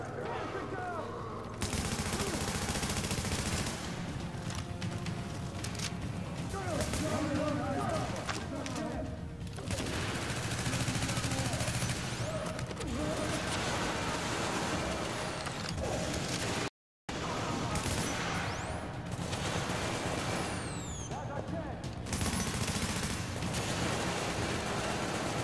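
Weapon fire in The Division video game: sustained bursts of automatic gunfire with rapid repeated shots over background game noise, broken by one brief gap, while a player talks.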